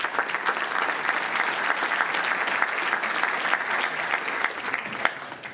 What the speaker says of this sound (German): Und an der Stelle vielleicht einfach nochmal großen Applaus für den tollen Entwurf.